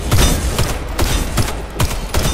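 Rapid bursts of gunfire from a gun in the video game Warface, loud and close, with sharp repeated shots in quick clusters and no talking.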